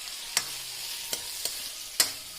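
Potatoes with turmeric get stirred in a quietly sizzling pan, a steady frying hiss broken by a few sharp taps of the spoon against the pan, with no talking.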